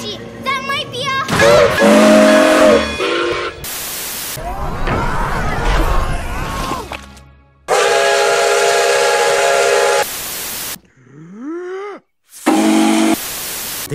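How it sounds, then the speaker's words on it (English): Steam locomotive whistle of engine 1225, several loud toots of varying pitch alternating with bursts of hiss and other sounds, some segments separated by abrupt silences, with voices heard in places. "The engine driver gives a loud toot to tell the cars to."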